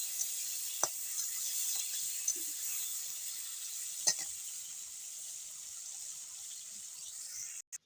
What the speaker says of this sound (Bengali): তার সাথে একটু নুন দিয়ে দিচ্ছি ভালো করে নাড়াচাড়া করে এটা ভেজে নেবো